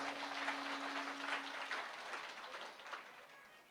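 Audience applause at a Bhagavat Katha religious discourse in a village, a dense steady wash of many hands clapping continuously, fairly loud and even throughout, with no talk over it.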